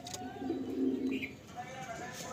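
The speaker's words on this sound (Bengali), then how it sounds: "এই আমার লাল সিরা জেনারেশনে আর এক জোড়া পায়রা দেখাচ্ছি" Pigeons in a loft coo in low, soft bursts, with a brief higher chirp partway through and a faint human voice in the background.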